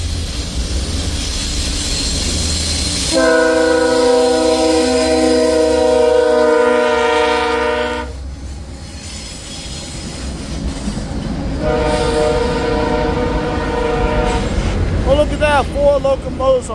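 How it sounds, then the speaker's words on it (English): A CSX intermodal freight train with four locomotives passes close by, its horn sounding loudly in long blasts over the rumble and clatter of wheels on the rails. Someone talks over the passing train. "we got an intermodal train with it. With four locomotives on this train."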